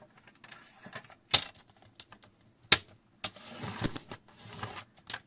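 A paper trimmer scoring a fold line into a 10 by 10 cm square of card, two sharp distinct clicks from the blade separated by light scraping and handling noises, close and quiet.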